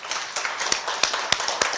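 A conference audience claps in a quick, fairly regular run of sharp slaps, lively and fairly close, with no talking over it.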